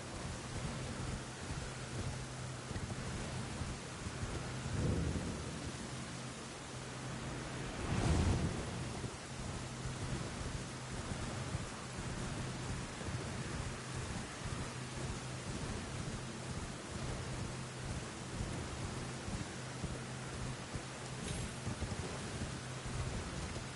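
An Elden Ring video game thunderstorm with lightning strikes: steady hissing rain runs throughout, broken by a couple of low, muffled thunder rumbles, with no voices.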